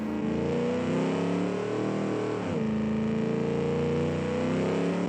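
A Kiev Motors 06 car in the BeamNG driving game accelerates hard, its engine droning steadily and loudly with rising pitch, easing off briefly midway before climbing again, alone with no talk.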